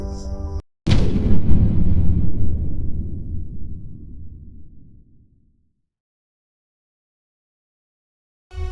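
One loud Diwali firecracker blast with a brief click before it, then a long booming decay that rumbles and fades into silence over several seconds.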